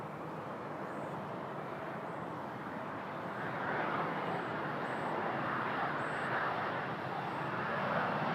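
A CRJ regional jet lands on runway 15 right at Toronto Pearson, a steady broadband engine roar that swells slightly midway and holds, distant and continuous with no voices.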